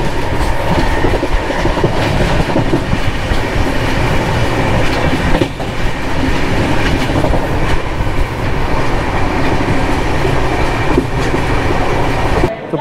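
Indian passenger train pulling out of Hindupur station and running, a loud continuous rumble with steady clickety-clack of the wheels over the rails and faint squeals, heard from on board.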